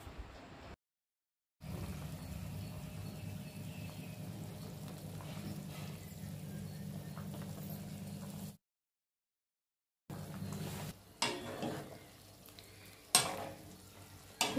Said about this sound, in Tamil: இப்போ தக்காளி குழம்பு நல்லா கொதிச்சு வந்துருச்சு